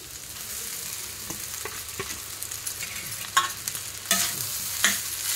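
Rice is stirred into egg bhurji in a pan over a steady sizzle, with irregular scrapes and clatters of a spoon that grow sharper toward the end. The sound is close, with no voices.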